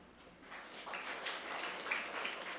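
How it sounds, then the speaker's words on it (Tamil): Two people clapping at a children's day debate in a school, scattered and uneven, moderately loud with some reverberant background noise. "ரெண்டே ரெண்டு பேர் மட்டும் கைதட்டுதீங்க"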